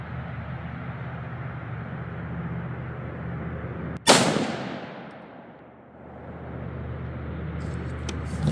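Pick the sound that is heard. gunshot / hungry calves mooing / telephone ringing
gunshot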